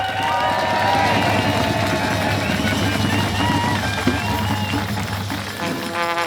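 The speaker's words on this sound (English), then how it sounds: "Can we hear the round of applause again for Alexander?" Crowd clapping and cheering at an outdoor May Day union rally in Port Kembla, a continuous mass of applause with some tonal background sounds mixed in.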